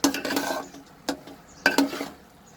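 Keema being mixed into cooked rice in a pot: a few separate bursts of spoon scraping and clinking against the metal, with quiet pauses between, close and alone without speech.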